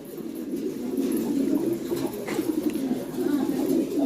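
Low, rolling coos from pigeons continue steadily throughout, close by and fairly loud, layered over one another.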